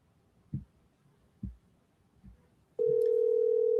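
On an outgoing phone call, a few soft low thumps come first, then a steady loud electronic ring tone begins abruptly and holds without a break.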